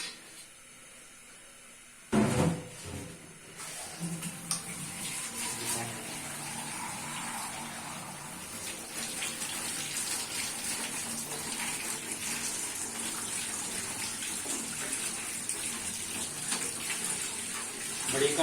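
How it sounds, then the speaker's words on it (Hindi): Tap water runs steadily over fish rinsing in a strainer set above a bucket, a continuous close splashing gush that starts abruptly after a short quiet moment and carries on throughout. "यहाँ से ले लेते हैं स्टेनर, और इसके नीचे रखने के लिए एक बकेट, और इसको धो लेते हैं।"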